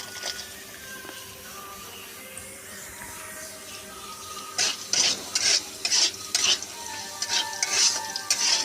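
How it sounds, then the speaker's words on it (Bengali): Grated coconut tipped into a pan of tempered oil for a Bengali hilsa-head and taro dish, starting with quiet background hiss, then bursts of sizzling and scraping stirs in the second half, close by. "দেখো এবার তেল ফোড়নটা হয়ে গেছে, আমি এবার নারকেলগুলো দিয়ে দিই"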